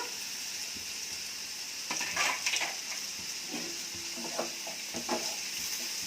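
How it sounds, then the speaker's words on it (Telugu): A spoon stirs eggplant, tomato and potato curry in a pan, scraping and clattering in a few short bursts over a steady soft sizzle. "అంతా ఒకసారి తిప్పుదాం."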